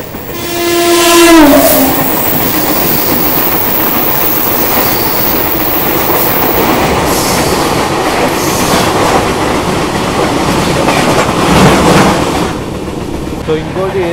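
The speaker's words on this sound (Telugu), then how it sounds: "నమ్మ రాజధాని అప్రోచింగ్" Rajdhani Express approaching near Bhuvanagiri, its loud horn blaring in a stepped tone early on, then a sustained roar of the train rumbling and clattering past at close range.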